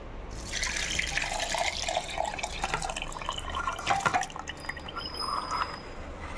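Soaked fennel seeds and their soaking water pour into a grinder jar, a continuous close splashing trickle with scattered drips and no talk.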